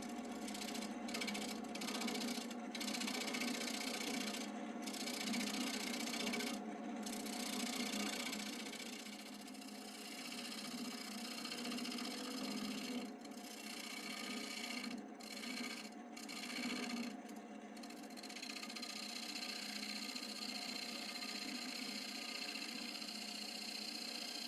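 A woodturning lathe hums steadily while a gouge hollows a small, very dry black walnut bowl with a live edge, giving a continuous close scraping rasp broken by brief pauses as the tool lifts off.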